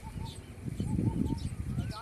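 Baya weaver birds chirp in short, faint, scattered calls near their nests in an open field, heard over a low rumble of nearby voices.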